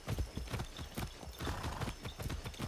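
Horse hooves in Far Cry 6, a video game: a steady, rapid clip-clop of a galloping horse, fairly close and moderately quiet, with no talking over it.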